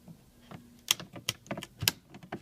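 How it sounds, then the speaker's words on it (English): Screwdriver prying at the wood dash trim of a BMW E60, heard as a close cluster of small, sharp clicks and taps, quiet and irregular, with a few brighter snaps near the end. "I'm just going to stick the screwdriver in place and"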